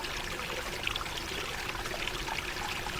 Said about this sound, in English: What a lovely tranquil sound. Fountain and waterfall.